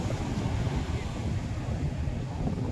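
Water washes over a sandy shore where sand is being eroded, a steady low rushing surge with wind buffeting the microphone, close and continuous, with no voices.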